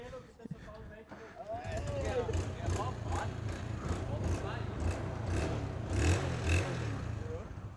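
Motorcycle with its exhaust removed, engine revving and idling roughly in a steady low rumble under ongoing conversation between riders.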